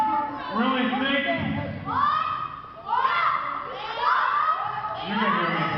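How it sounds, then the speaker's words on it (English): A wrestling arena crowd jeers and shouts at Paul Jourdain, rising in repeated waves of loud voices that fill the hall. "The crowd is letting Jourdain have it here."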